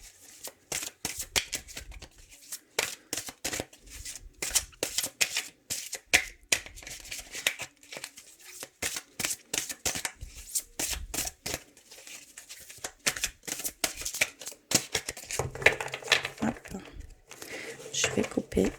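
Shuffling a deck of cards during a guardian angel card reading, many quick riffling bursts repeating in a steady rhythm for the whole stretch, close and crisp.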